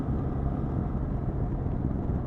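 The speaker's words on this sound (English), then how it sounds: "It buzzes along. It's a revvy little engine" A small, revvy motorcycle engine buzzes steadily at speed in fifth gear, a continuous close engine drone mixed with road and wind noise, with no voices.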